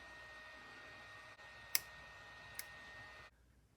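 Shrink tubing for a 1/8 scale Jaguar XKE model car is cut to length: two quiet, sharp snips a second apart against a low steady hiss, ending in near silence.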